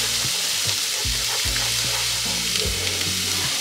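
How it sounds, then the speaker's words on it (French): A spoon stirs risotto in a hot pan, the rice sizzling softly while repeated scraping strokes come close and clear, with no talking. "donc en attendant, on continue de touiller"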